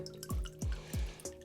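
Water drips from a hot water line during a hot water tank replacement, four distinct plinking drops falling at a slow, fairly even pace, close and clear against a quiet background.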